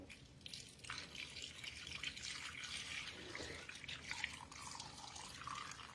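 Roast juices pour and splash into a crock pot nearby, a soft continuous trickle with a few drips, fairly quiet throughout.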